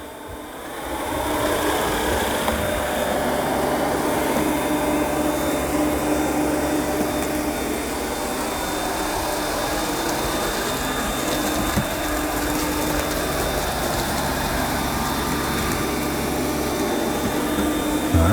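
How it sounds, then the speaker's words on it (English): A Yeedi C12 robot vacuum cleaning a room, a steady whirring suction hum with a faint high whine, running continuously at close range after a quiet start, with no talk. "We're going to see how well it vacuums up."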